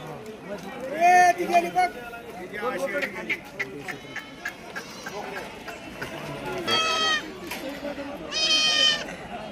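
Goats at a Saturday livestock market bleating repeatedly, several loud nearby calls rising over a busy background, mixed with people talking throughout.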